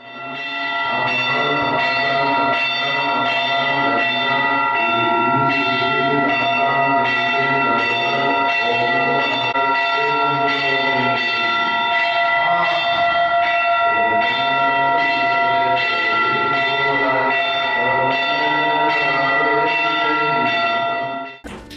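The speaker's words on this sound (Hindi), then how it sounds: "घंटे, घड़ियाल एवं शंख की ध्वनि के बीच जैन उपासकों ने भगवान पार्श्वनाथ का पंचामृत से मस्तकाभिषेक किया।" Temple bells and gongs ring continuously during a Jain abhishek ceremony for Lord Parshvanath, a dense, loud metallic clangour sustained for over twenty seconds, with possible conch tones blended into the din.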